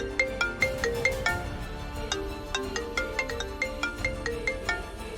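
A mobile phone ringtone for an incoming call from an unknown number, a bright repeating electronic melody of quick plucked notes, loud and close, playing alone without speech.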